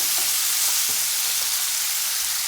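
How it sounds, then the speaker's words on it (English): Green beans frying in about two tablespoons of butter in a pan: a loud, steady hiss of sizzling close by, with a few faint knocks underneath. "In the pan with about 2 tablespoons of butter, I'm going to be adding my green beans."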